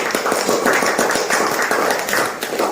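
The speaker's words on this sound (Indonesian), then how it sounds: "Oke, tepuk tangannya dong." Applause from the audience at a company anniversary gathering, a steady dense patter of clapping hands filling the room for a few seconds with no voices over it.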